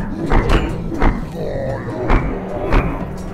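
Hill giant slam attacks from a tabletop fantasy soundset, a series of heavy dull thuds and impacts repeating at irregular intervals, close and weighty, with a low rumbling bed underneath.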